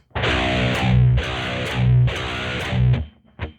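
Distorted rhythm guitar riff played slowly, three chugging phrases with heavy low notes and bright bursts between them, loud and close, ending in a short muted stab.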